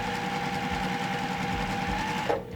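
A sewing machine stitches a quarter inch seam through quilt fabric pieces, a fast steady mechanical chatter heard close and alone before stopping abruptly near the end.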